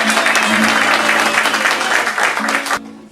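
A crowd bursts into loud, close applause after a storyteller finishes a tale at a show in Alboraia, dense clapping with some voices underneath that cuts off abruptly near the end.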